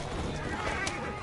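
A horse whinnies in Assassin's Creed Syndicate, a short, fairly faint neigh rising briefly over a busy street-ambience background with a voice talking underneath.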